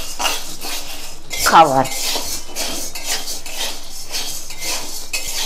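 Sago pearls stirred in a wok-style pan, a rhythmic series of metallic scrapes and clanks from the spoon against the metal, one louder clatter in the middle, with a brief word spoken.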